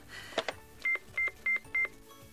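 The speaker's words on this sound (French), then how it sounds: "Tu as appelé Denis, monsieur Je sais tout réparer?" A telephone number is dialed, a click or two followed by four evenly spaced keypad tones, close and clear with quiet between them and no talk.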